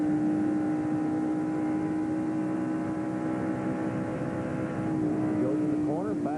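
A race car engine from a 1997 NASCAR Busch Series race at Michigan drones loud and steady, then its pitch dips as the driver lifts off and sweeps back up as he gets on the gas again near the end.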